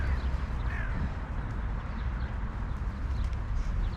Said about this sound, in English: But we do have a nice view of the crows coming down.